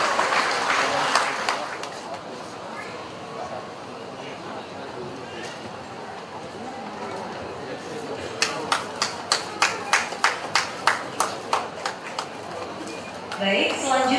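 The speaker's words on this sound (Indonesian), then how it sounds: "Bapak Guru boleh berikan aplaus yang meriah sekali lagi Bapak dan Ibu sekalian" An audience at a Christian mass wedding claps, a loose wash of applause under an announcer's voice, then a run of sharp, evenly spaced rhythmic claps near the end.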